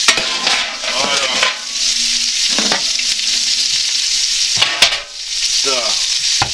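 Chicken legs frying in a pan, heard as a loud, steady sizzle with intermittent scraping and stirring from a utensil and light clinks of cookware, close up and with no speech.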